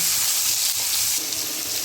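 Potatoes fry and sizzle in hot oil while being stirred in a pan for a mixed vegetable dish, a steady, close, dense hiss with no talking.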